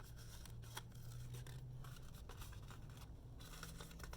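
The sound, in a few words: cutting out a larger circle for a craft cone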